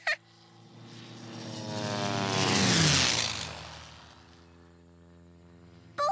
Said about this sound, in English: did you see that plane? I saw it. Did you hear how loud it was?